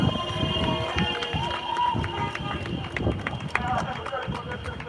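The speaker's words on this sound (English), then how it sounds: "let's catch a chant while I'm here in the crowd" Protest crowd in Columbia, South Carolina chanting together in a steady rhythmic mass of voices, close and loud, with shouts and scattered noise over the top.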